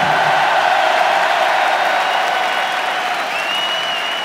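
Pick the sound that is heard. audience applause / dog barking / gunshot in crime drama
audience applause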